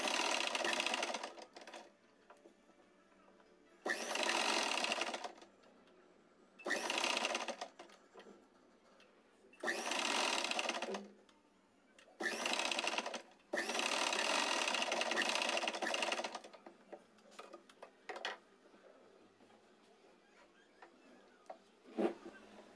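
A sewing machine top-stitching around the neckline of a dress made from an old saree, running in several steady bursts of a few seconds each with short pauses between them, close and clear.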